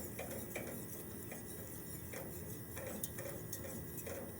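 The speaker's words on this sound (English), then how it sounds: "You need to constantly whisk it to keep that emulsion with the reduction." A whisk beats butter into a beurre blanc reduction over a low flame, ticking rhythmically against the pan with steady metallic strokes roughly twice a second, close and moderately loud.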